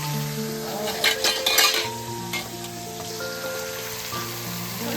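Thor (banana stem) fries in a pan while a utensil stirs it, with a burst of scraping strokes early on over a steady, close sizzle that carries on throughout.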